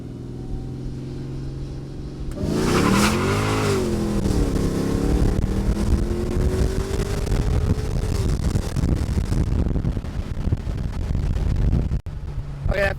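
Mercedes E55 AMG engine surges into a hard full-throttle pull from inside the cabin, rising roar with climbing pitch that sweeps up, then holds loud and steady before backing off near the end.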